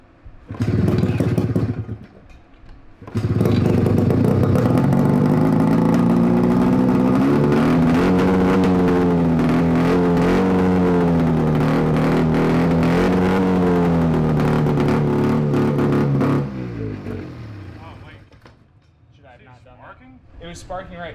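Free 670cc two-stroke engine is pull-started, catches and runs with a loud, steady buzzing drone for about thirteen seconds before cutting out, with a short burst just before it; people talk nearby.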